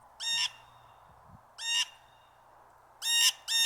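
Blue jay giving its loud jeer call, three harsh, strongly harmonic screeching bursts with a fourth starting at the end, loud and close, separated by short quiet gaps.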